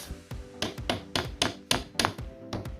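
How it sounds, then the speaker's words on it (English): A small hammer taps wooden dowels into an IKEA KALLAX shelf, giving about ten crisp, evenly spaced knocks on wood, close and fairly loud. "I'm using this small hammer."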